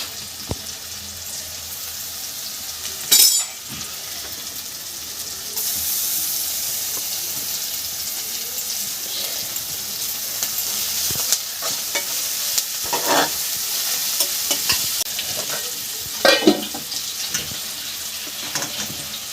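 Garlic added to onions frying in a pan for a Bengali curry with taro and prawns, a continuous loud sizzle with occasional scraping stirs and a couple of brief louder clatters, heard up close without speech.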